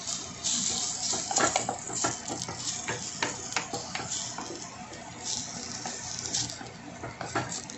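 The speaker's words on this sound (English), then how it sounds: "Gotta give this a stir for a while." Korean miso soup with Korean squash is stirred in a pot, giving a continuous run of soft metallic scrapes and clinks with faint liquid sloshing, close and moderately quiet.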